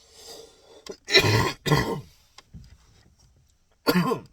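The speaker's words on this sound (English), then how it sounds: "I keep coughing, I'm gonna have to pause again." Several harsh, loud coughs and throat-clearing bursts come in a cluster, then a pause, then one more forceful cough near the end.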